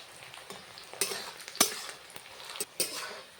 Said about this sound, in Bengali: এইভাবে পেঁয়াজটা ভাজবো, বেশি পেঁয়াজটা ভাজবো না